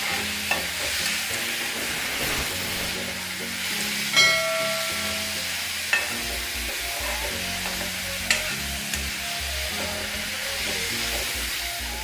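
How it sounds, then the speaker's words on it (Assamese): Cauliflower and potato pieces are stir-fried in a pan, with a steady close sizzle and hiss of frying broken by scraping, clattering stirs at intervals. "মোৰ কবি আৰু আলু ভাজিখিনি বৰ্তমান হৈ গৈছে"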